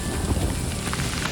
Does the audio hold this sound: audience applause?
no